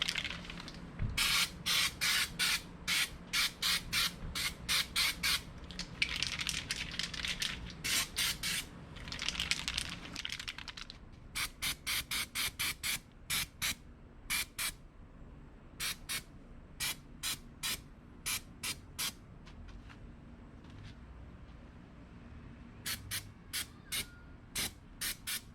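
Spray coating is applied to a Smittybilt XRC steel bumper for a Jeep XJ in many short hissing bursts of varying length, close and loud, with brief pauses between.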